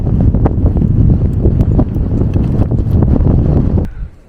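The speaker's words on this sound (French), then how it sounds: "il y a un sacré vent" Loud gusting wind roars against the microphone on a beach in Morocco with blowing sand, rumbling steadily before easing off and fading at the end.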